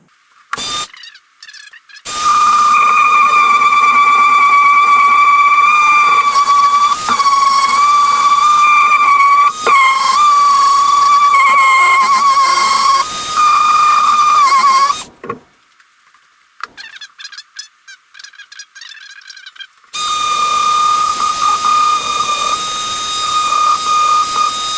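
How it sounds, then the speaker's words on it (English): A random orbital sander fitted with sandpaper works over a guitar body, giving a loud, steady whining hiss in two long runs separated by a brief quiet gap. "I'm going to use a little bit of sandpaper on a random orbital sander and see what happens with that"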